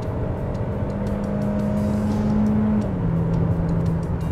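A Hyundai Creta or Renault Duster with an automatic gearbox is floored for a kickdown at about 78 km/h. A steady, strained engine drone rises over road noise inside the cabin, then dips at one gear change before pulling on.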